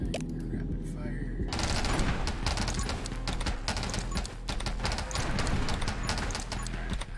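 Rapid-fire shooting in the top-down survival game 20 Minutes Till Dawn, a dense stream of quick staccato shots running continuously over a busy game soundtrack, with a voice talking intermittently.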